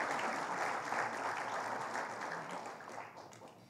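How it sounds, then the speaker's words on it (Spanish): An audience at a legal talk on constitutional reform applauds a guest speaker, a dense, continuous clapping that fades slightly toward the end, heard from a moderate distance. "Recibamos con fuertes aplausos a la doctora Emilia Bustamante Oyagui."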